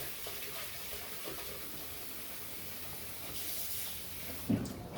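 Hot water runs from a kitchen tap into a saucepan used for caramelizing onions, a soft steady hiss of flow at low level, ending with a brief knock of the pan near the close.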